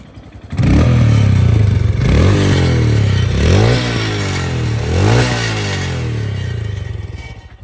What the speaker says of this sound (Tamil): எக்ஸாஸ்ட் மட்டும் கொஞ்சம் எவ்வளோ ரோர் பண்ணுங்கள்.